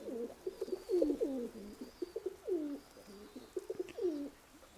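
A pigeon cooing in repeated soft, throaty phrases, close by and fairly quiet, with brief pauses between calls.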